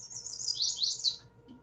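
A chestnut-sided warbler sings in a forest, a bright run of high sweet notes rising and ending in a quick accented flourish, fairly close and alone over a soft low background hum.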